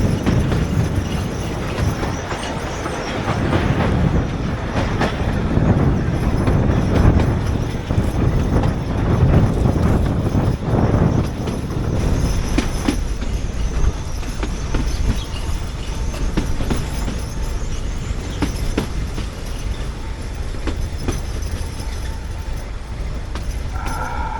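A narrow gauge passenger heritage train on the Bilimora–Waghai line rolls steadily along, a continuous close rumble with rhythmic wheel clatter and rattling carriages throughout.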